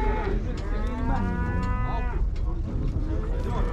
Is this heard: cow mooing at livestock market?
yes